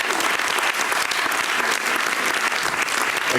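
A crowd in a Paris venue claps hard and steadily for a speech contest finalist, the dense ovation holding at full strength throughout.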